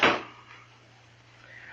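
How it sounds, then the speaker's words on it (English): A door shut once at the very start with a single muffled thump, then a faint lingering room tone with no talking. "Shut the door, Chester"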